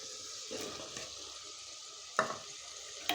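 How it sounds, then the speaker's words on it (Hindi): Beef and potato chunks for aloo gosht sizzle steadily in a pot, with occasional scraping knocks from a stirring spoon, heard close with no talking. "और साथ आलू भी हम इसके साथ भून लेंगे।"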